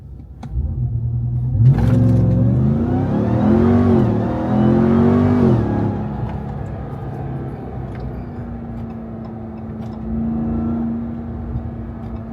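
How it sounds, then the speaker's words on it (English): A 2023 Ram TRX pickup launches hard under launch control, its engine roaring up through rising revs for several seconds, loud and close, then easing into a steady lower drone as it cruises on. "I'm gonna go ahead and do launch control right here for you guys."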